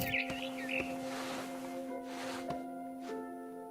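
Barn swallow chirping in the video game What Remains of Edith Finch, a few short bright chirps early on over soft steady game ambience and faint tones, fairly quiet.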